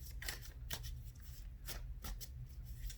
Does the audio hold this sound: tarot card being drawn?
yes